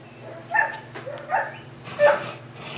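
Neighbor's dogs bark a few times in the background, three or four short yapping bursts spaced about half a second apart over a steady low hum.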